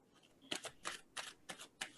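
Tarot cards are shuffled in five or six quick, crisp riffling bursts spaced about a third of a second apart, close and quiet with no talk.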